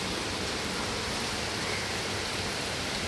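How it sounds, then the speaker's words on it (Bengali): Steady rain falls outdoors, a dense, continuous hiss that stays even and fairly loud throughout with no breaks or other sounds. "বৃষ্টি পড়ছে, বৃষ্টির আওয়াজটা শুনতে পাচ্ছেন তো বন্ধুরা?"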